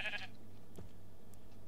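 A sheep bleats in Minecraft, a single short, faint bleat at the start of the clip over a low steady background hum.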